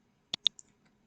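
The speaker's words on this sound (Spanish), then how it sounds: "le damos un clic acá" Two sharp mouse clicks close together while invoicing software is being used, followed by a fainter third tick, close and clean with no talking.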